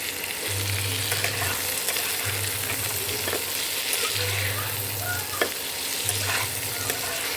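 Chickpeas sizzle and fry steadily in a hot pan, a continuous crackling hiss with a few soft stirring scrapes, close and fairly loud with no talking.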